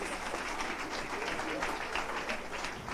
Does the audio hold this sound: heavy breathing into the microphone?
no